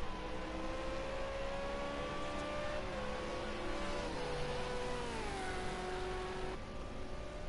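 V8 Supercar racing engines in a sim race at the Red Bull Ring scream at high revs, a dense pack of cars whose engine notes hold steady then drop together with gear changes and braking, loud and continuous with no voices.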